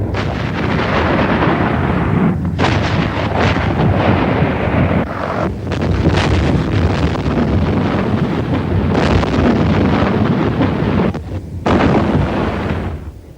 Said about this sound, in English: as the artillery sought out PLO positions and lines of communication